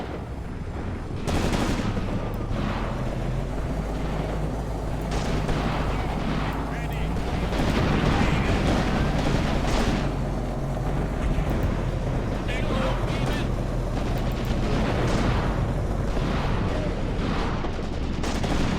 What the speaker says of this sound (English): Oh, it's just a mortar.